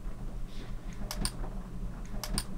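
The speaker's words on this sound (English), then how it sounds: "you can hear what I just recorded, which is my incredible finger clicking" Finger clicking recorded through a USB audio interface on a Windows computer: a low hum underneath with two pairs of sharp, close clicks, spaced about a second apart.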